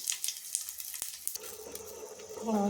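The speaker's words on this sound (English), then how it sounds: "I am giving a little tempering" Spices for tempering sizzling and crackling in hot oil with a few sharp pops at first, then a steadier hiss as something is stirred in, close by with no talking.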